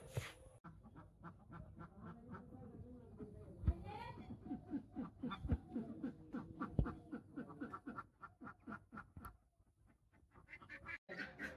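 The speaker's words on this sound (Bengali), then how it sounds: "সকালবেলায় হাঁস ছেড়ে নই।" Village ducks let out in the morning quack in quick, rhythmic bursts close by, forming a busy chorus that fades near the end.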